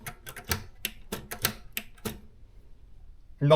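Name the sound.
Maritsa 30 typewriter mechanism being operated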